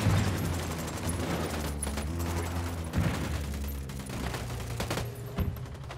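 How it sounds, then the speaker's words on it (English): Sustained automatic gunfire in Ghost Recon Wildlands, a dense rattling fusillade of rapid shots running continuously for several seconds with a few heavier bursts, loud and close with no talk over it. "Opening fire."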